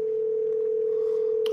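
A telephone call tone sounds as a single steady, unbroken electronic hum, clear and constant throughout, with a faint click at the very end and no voices.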